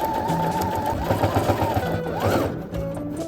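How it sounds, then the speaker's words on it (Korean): Sewing machine topstitching along the center seam of a fabric string backpack, a steady continuous mechanical whir with rapid needle rhythm, close and loud throughout, with faint talk barely present. "그 다음 가운데 봉제선을 따라서 상침으로 한번 눌러줄게요"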